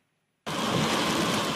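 Heavy rain from a storm system pours down in a sudden dense roar that starts abruptly after near-silence and keeps up as a steady, loud hiss.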